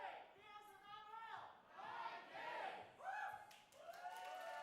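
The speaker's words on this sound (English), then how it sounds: "Still got the cheers coming through." Crowd cheers at an esports playoff match, heard faintly in the background beneath a close commentator's voice, swelling in several rising waves of shouting.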